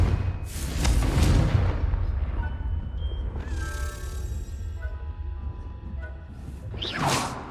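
Confringo, an explosive spell in Hogwarts Legacy, bursts with whooshing blasts and booming impacts, loud at the start and again near the end. Shimmering tonal magical effects ring out in between.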